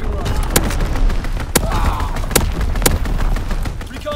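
Artillery and gunfire from a Call of Duty: WWII multiplayer match boom and crack in loud, sharp bursts over a constant battle rumble, several distinct blasts spaced across the clip.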